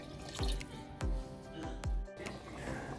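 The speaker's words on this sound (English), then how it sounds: "Add some water and let them to boil." Water poured into a cooking pot of chicken sinigang, a Filipino sour soup, giving a few close splashing thumps and drips at a steady interval.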